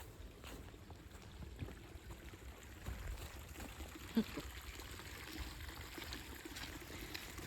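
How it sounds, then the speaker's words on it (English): A tiny waterfall trickles and dribbles steadily outdoors, a soft continuous low wash of water with faint splashes, fairly quiet throughout. "Back to the smallest waterfall in the world."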